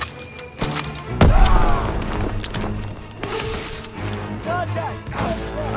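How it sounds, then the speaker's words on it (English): Heavy thud and crash of a grenade explosion in the World War II shooter Call of Duty WW2, landing amid rumbling battlefield noise, gunfire and shouted voices during Operation Cobra. "Lob it a grenade!"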